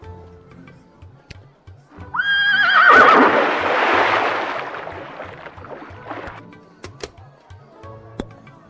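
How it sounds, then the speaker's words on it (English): Horse in the Lil' Guardsman video game gives a loud, rising whinny that blooms into a long breathy neigh and fades, set against a faint rhythmic game background with scattered clicks. "Yes, I insist the horse get into the water."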